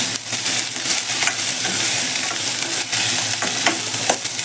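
Tomatoes are added to onions frying for a stuffed brinjal gravy. A loud, steady sizzle runs throughout, broken by repeated close scrapes and clacks of stirring in the pan.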